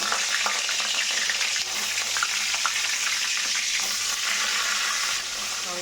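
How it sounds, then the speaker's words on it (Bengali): Eggplant frying in oil in a kadai, a loud, close, continuous hiss and crackle with occasional soft stirring scrapes, dipping slightly in level near the end. "দেখো এখন বেগুন ভেজে নেব আর এখানে নতুন রুটি ভেজানো আছে আমরা রুটি আর বেগুন ভাজা খাবো তখন কড়াইয়ে তেল দিয়ে নিই"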